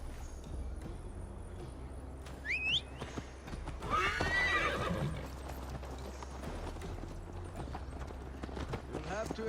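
Horse riding in Assassin's Creed Valhalla: steady clip-clop of hooves runs throughout with a sharp neigh and whinny partway, over a low game ambience, with voices talking across it.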